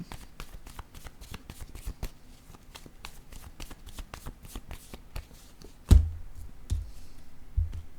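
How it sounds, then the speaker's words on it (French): Playing cards are handled and drawn from a deck up close, a fast string of crisp flicks and snaps followed by a few heavier taps and thumps, with almost no talking. "Je vais prendre une carte de mon jeu haut."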